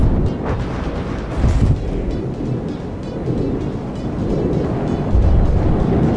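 Frag grenades go off in a vehicle combat video game, heard as a dense, continuous rumble of overlapping blasts with a brief louder burst near the middle and another toward the end.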